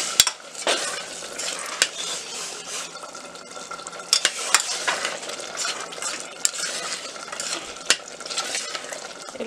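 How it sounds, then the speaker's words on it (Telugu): Chicken liver curry with fresh coriander is stirred in a pan over heat, a steady sizzling, frying hiss broken by sharp scrapes and clinks of the utensil against the pan, close up and without talk. "ఒకసారి కలుపుకోవాలి."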